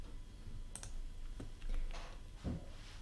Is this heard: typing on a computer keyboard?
yes